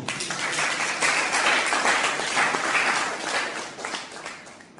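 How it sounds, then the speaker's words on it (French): A conference audience at a youth leadership event claps together in a full, steady wave of applause that holds strong and then eases slightly near the end. "Applaudissez pour cela."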